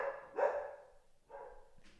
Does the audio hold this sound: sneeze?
no